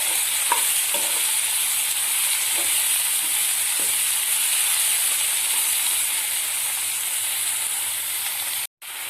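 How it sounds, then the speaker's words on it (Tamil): Tomatoes sauté in a pan with onions for a prawn gravy, a steady close sizzling hiss broken by a few light clinks of a spoon, cutting off briefly near the end; no voices. "தக்காளி நல்லா வதக்கிக்கலாம்."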